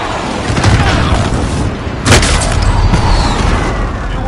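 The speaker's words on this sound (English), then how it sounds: "Enemy precision airstrike!" Enemy precision airstrike in a video game: a sustained, loud barrage of booming blasts and crackling gunfire, with a sharp impact near the middle and continuous rumble throughout.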